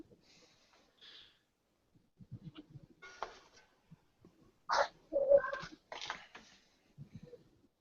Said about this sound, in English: That cat is so loud.